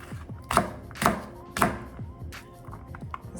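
A knife chops onion on a cutting board in three evenly spaced, close thunks, followed by softer light taps, with fairly quiet surroundings.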